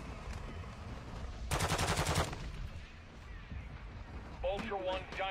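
Gunfire in Warzone 2.0 comes as a dense burst of rapid automatic shots in the middle, with scattered shots and game noise before and after and a voice talking near the end.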